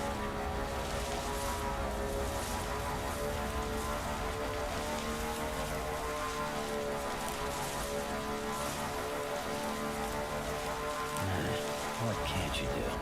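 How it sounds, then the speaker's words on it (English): Rain falls steadily in the video game Death Stranding, a soft continuous hiss at low volume layered over a droning tonal hum, with a faint voice speaking in the background. "See if the rain's still falling over there."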